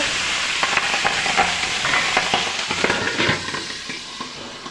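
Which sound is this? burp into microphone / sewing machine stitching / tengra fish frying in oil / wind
tengra fish frying in oil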